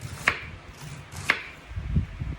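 A knife chops through red cabbage heads being prepped for canning slaw, two sharp crisp cuts about a second apart followed by duller thuds on the board, close and fairly quiet.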